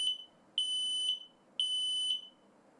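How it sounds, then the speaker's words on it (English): A SmokeSight SS10LNAN wireless smoke alarm's test sounder gives a piercing high-pitched tone in long, evenly spaced pulses, loud and close, with no talking. "pressing the test button on one alarm to confirm sounder operation"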